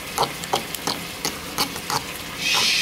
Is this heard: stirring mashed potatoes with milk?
yes